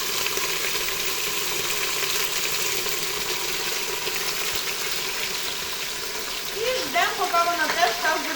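Pork fat and brisket fry in a pan with a continuous, even sizzle close by. Toward the end the sizzle is joined by some clattering and a brief voice-like sound.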